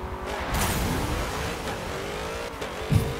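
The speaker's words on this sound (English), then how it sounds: "we have the 1970 Dodge Challenger with the roadkill livery on it" A 1970 Dodge Challenger in roadkill livery, upgraded like a drag car, roars in Forza Motorsport 7 with a loud, steady engine drone and a rising whine, plus a brief sharper burst near the end.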